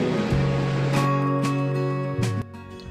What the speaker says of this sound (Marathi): मोठ्याच्या मोठ्या लाटा उसळत आहेत.